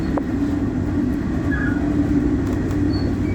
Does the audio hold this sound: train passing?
yes